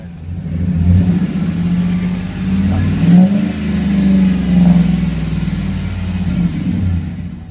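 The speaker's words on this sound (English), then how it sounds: "gonna give it a little bit of a rev" A 2014 Chevy Silverado engine with a cold air intake revs up and down several times, deep and throaty, loud and close, with the exhaust rumbling between pushes.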